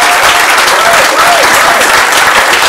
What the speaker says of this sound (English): can we just have a huge round of applause, please, for Ken and Sid